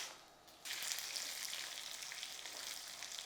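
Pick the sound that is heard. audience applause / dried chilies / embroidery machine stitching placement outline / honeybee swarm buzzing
dried chilies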